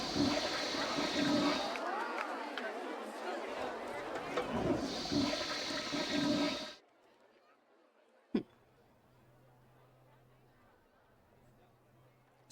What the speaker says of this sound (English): The double toilet flushing sound made me think it was going to start raining